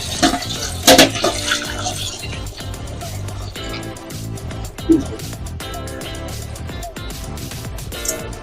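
Water pours into a pan of lightly boiled potato and eggplant curry on the stove, a steady splashing stream with a couple of louder clinks against the pan.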